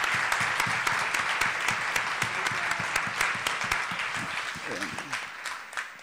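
Sustained applause from a conference audience fills the room, dense clapping that gradually thins out toward the end.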